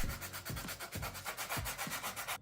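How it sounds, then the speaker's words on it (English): Sandpaper rubs back and forth along the edge of a cut fan hole in a portable power supply case, making a quick, even rhythm of close, raspy scraping strokes, about five per second with no voice. "I will use a cutter and sandpaper to smooth it out."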